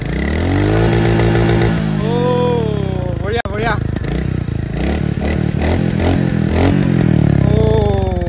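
A loud Royal Enfield Goan Classic 350 motorcycle engine idling and revving near the listener, its exhaust rumbling and rising in pitch, with a brief spoken remark over it.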